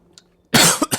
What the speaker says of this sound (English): I'm at the tail end of a cough.